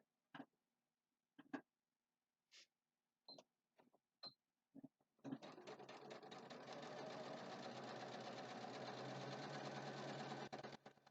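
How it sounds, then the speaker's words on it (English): An HQ Stitch 710 sewing machine with a quarter-inch foot sews a seam. A few sharp clicks come first, then the motor runs in a steady, close, rapid whir for about five seconds before it stops. "I'm sewing with a 1/4 inch seam allowance. I have the 1/4 inch foot on my HQ Stitch 710 machine here."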